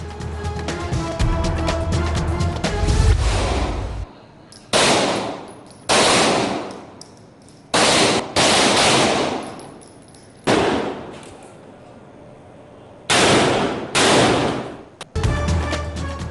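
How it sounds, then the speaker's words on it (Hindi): Live-fire practice at a police lines firing range, with loud bursts of rapid gunfire starting and stopping in several separate volleys, each broken by short pauses. No one speaks. "पुलिस लाइन्स कला गुजर सिंह में फायर प्रैक्टिस का सिलसिला जारी"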